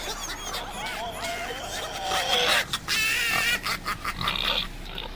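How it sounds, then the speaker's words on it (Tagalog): A pig grunts and snorts in a run of close, irregular calls at a lechon roasting spot during a wedding feast, mixed with chuckling and laughter from nearby people. "Ay, may baboy."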